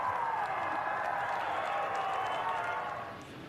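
A crowd at a sporting event responds with a sustained roar of cheering and applause that holds steady, then fades in the last second.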